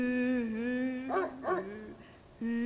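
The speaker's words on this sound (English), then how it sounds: "That dog's growling again." A dog in the horror game Spirit Hunter: NG, heard as a low sustained growl-like tone broken by two short bark bursts, fairly quiet and with no one talking.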